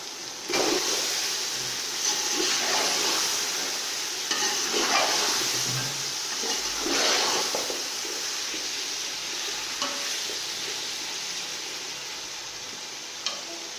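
Potatoes go into a pan of fried chilies for an aloo pulao and sizzle loudly, with steady frying hiss and repeated scraping stirs across the pan throughout.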